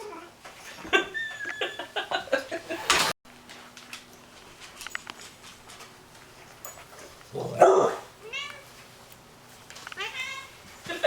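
A fat, grumpy cat during a nail trimming gives short, loud vocal bursts near the start and again midway, and a person talks over and between them.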